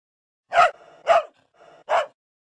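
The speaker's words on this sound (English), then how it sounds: "dog." Dog barking, three short separate barks in quick succession with breathy tails, close and clear against silence.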